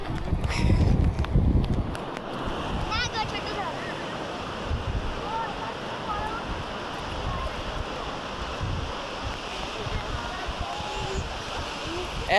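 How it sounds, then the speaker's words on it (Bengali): Sea waves roll and break on New Digha beach at sunrise, a continuous, close wash of surf mixed with wind buffeting the microphone, with people talking over it. "দেখতে পাচ্ছেন কেমন ঢেউগুলো আসছে"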